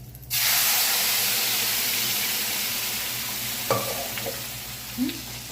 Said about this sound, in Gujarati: તો આ જીરું પોપ થઈ ગયું છે અને હવે અમે નાખ્યા તમાલપત્ર 2.